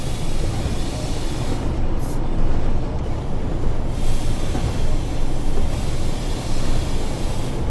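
Train rumbling steadily into Manchester in a train simulator game, with dense low wheel-and-engine noise and a faint hiss running evenly throughout, no voices.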